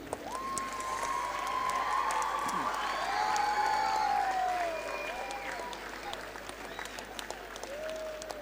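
Children in a school hall applaud their teachers during a staff felicitation ceremony, a steady wash of clapping with light cheering that carries on for several seconds before tapering, with speech faintly mixed into the crowd noise.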